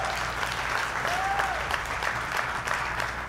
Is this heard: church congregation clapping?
yes